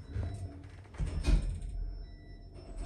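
Infinity lift doors sliding open at Clonsilla train station in Dublin, a soft mechanical rumble and whoosh with a brief thud, heard up close amid faint station ambience.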